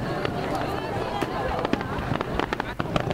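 Fireworks bursting over Kisarazu Port during a crowded summer festival display, sharp booms and crackles popping in rapid irregular succession against a steady murmur of the surrounding crowd.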